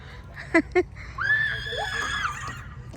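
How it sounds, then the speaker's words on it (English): Children scream in a high, shrill, wavering cry lasting over a second, preceded by two short sharp yelps, in a noisy home setting. "Guys, no screaming ya."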